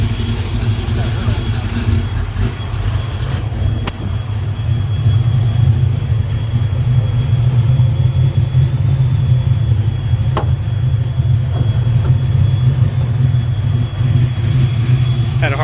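A 427W V8 in a Fox Body car idles cold at low revs, a deep steady rumble close by and fairly loud, with faint background noises and a brief click or two over the engine.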